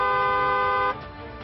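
A single steady vehicle horn blast sounds loud and clear for about a second, then cuts off abruptly, leaving only quiet background.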